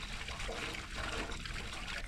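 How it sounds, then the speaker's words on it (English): Water runs steadily from an outdoor tap along a bikepacking route, a close, continuous hissing gush without pauses. "So we're getting some water at this tap."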